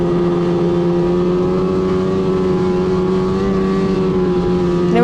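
A snowmobile running along the shoulder of a dirt road in Northern Michigan, its engine a loud, steady, close drone that holds an even pitch throughout.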